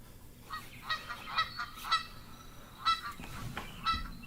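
A handheld goose call blown to imitate geese gives a series of sharp, nasal honks in an irregular rhythm, close and moderately loud over a faint hiss.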